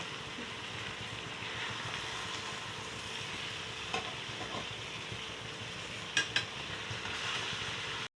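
Biryani pieces stirred and fried in a pan: a steady, dense sizzle of hot oil runs throughout, with a few faint scrapes of stirring and no voices.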